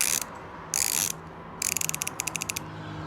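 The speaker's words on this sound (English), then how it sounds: "The ratcheting, I'll put it near me microphone so you can hear it" A cheap plastic Aldi ratchet wrench clicks close up, with two short buzzing bursts of rapid ratcheting followed by a longer run and a series of distinct separate clicks.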